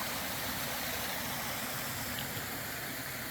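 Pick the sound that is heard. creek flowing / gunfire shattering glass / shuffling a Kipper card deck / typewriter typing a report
creek flowing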